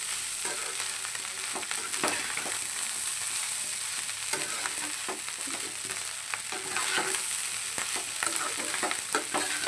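Rice stir-fried in a wok for dinner gives a steady, close sizzle for nearly ten seconds, with scraping and stirring clicks breaking through now and then and no voices.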